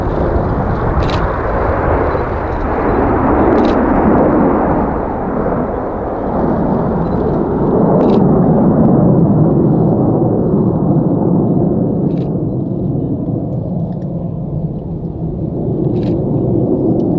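Red Arrows jets at the Royal International Air Tattoo fly the Lightning Loop, a loud continuous roar and rumble of engines overhead, swelling and ebbing across the sky without talk.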